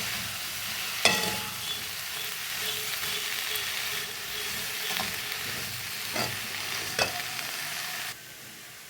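Ingredients sautéing in a hot pan, with a steady sizzle and a few sharp scrapes of a spoon against the metal. It is fairly close and there is no talk.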